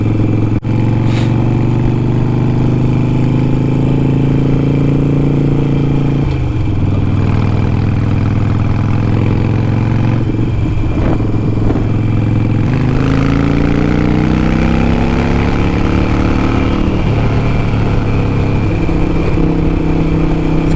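A Harley-Davidson Sportster engine runs loud and close, a deep throbbing idle that rises and falls through several revs, steady throughout with no speech.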